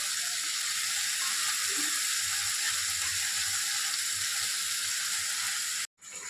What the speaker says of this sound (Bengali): ভালো করে তেলের মধ্যে কষিয়ে নেব।